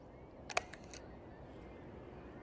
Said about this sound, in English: You get addicted to this shutter sound.